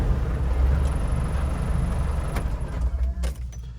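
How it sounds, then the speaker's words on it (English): A restored Land Rover Defender 110 station wagon with a 300Tdi diesel engine revs inside a closed building, a loud, rumbling engine roar that rises and echoes before settling. "We're in a closed building, so give it a little rev."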